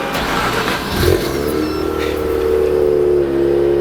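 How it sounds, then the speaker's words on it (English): A Mazda RX-7 rotary-engine car cold-starting in neutral, catching with a burst then settling into a loud, steady raised idle with a continuous droning hum. "So let's get a cold start real quick"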